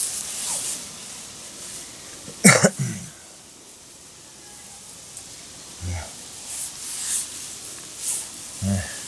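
A man gives a few short, sharp coughs, one louder burst near the start and fainter ones later, against a quiet outdoor background.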